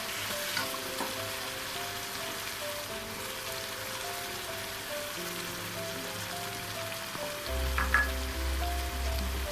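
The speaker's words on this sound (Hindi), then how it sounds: "कढ़ाई हमारी तैयार हो चुकी है, इसमें घी छोड़ दिया है। अब हम इसमें गरम मसाला डालेंगे।" Garam masala frying in ghee in a karahi: a steady, close sizzle and crackle throughout, with a faint stir partway through and a brief louder burst near the end, over soft background music.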